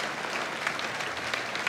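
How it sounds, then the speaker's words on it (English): A church congregation applauds steadily through the whole stretch, a dense, even roar of many hands clapping with no speech over it. "Let heaven hear this applause as the people of God celebrate new life"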